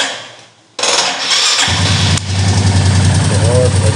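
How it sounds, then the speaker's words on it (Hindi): Royal Enfield Meteor 350 motorcycle with a weak battery cranks with an odd strained sound, then its engine catches and settles into a steady, loud, close idle; brief talk near the start. "क्लच दबाने के बाद में इसको स्टार्ट करते हैं।"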